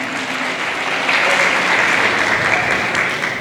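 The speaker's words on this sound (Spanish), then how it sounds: "Dele fuerte palmas al Señor." A church congregation claps loudly and continuously in praise, a dense, even burst of many hands with a faint tone lingering underneath.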